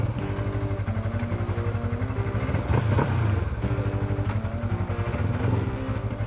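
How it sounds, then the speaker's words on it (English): A stock-exhaust Segway AT10 1000cc two-cylinder quad with CVT gearbox runs close by, holding a steady, rich idle-to-mid rumble with slight rises in revs throughout. "with the stock exhaust, the engine sounds pretty rich"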